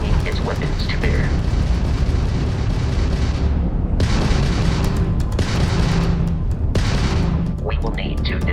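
Heavy booming weapon fire from an enemy Crimson Fleet ship during space combat in Starfield, several deep bursts with sharp onsets recurring every second or so, under a continuous rumble with speech present.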